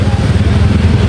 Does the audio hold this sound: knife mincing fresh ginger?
no